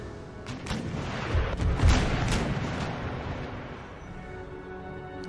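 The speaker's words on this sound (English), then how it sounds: "So my howitzers just engage the walls like regular foot artillery." Howitzers fire at fortress walls during a siege battle in Empire: Total War. A few deep booms come in quick succession, loudest in the middle, then roll off into a low rumble beneath faint battlefield ambience.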